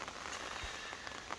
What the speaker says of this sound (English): It's raining and it's awesome.